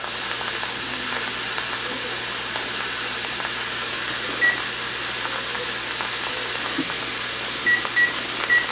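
A pot used to prepare grain for enoki mushroom inoculation vents steam freely without building pressure, giving a steady, continuous broadband hiss that stays even throughout.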